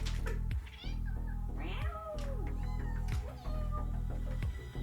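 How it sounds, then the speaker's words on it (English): A house cat wails in a string of long, drawn-out meows that rise and fall, close and fairly loud, with short pauses between calls over a low steady background hum. "My cat is wailing."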